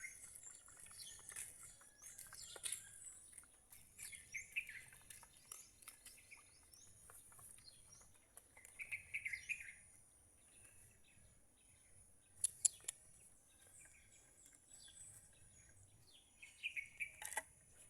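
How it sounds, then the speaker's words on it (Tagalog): Birds chirp and tweet outdoors, scattered calls near and far over a quiet background, with occasional louder bursts. "Maririnig mo yung huni ng mga ibon."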